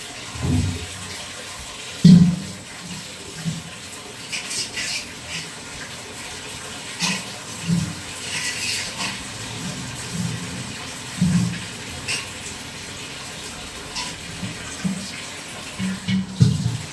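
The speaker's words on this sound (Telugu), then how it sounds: "అవి కూడా కడిగేస్తున్నా, బిందెలు కూడా కడిగేసి పెట్టుకున్నా" Running water splashes while water pots are rinsed, with intermittent louder gushes and clunks of the pots being handled nearby, continuing throughout with no talking.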